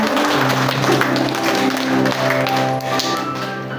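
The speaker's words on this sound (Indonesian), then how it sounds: "Jadi tepuk tangan dulu Bapak Saudara" An audience at a Christmas celebration for Christian students at an elementary school claps briskly and continuously, the patter of hands layered over sustained musical tones.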